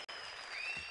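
Audience applause at a Sivas talent show opening, a steady dense wash of clapping that fills the whole second after a brief break at the start.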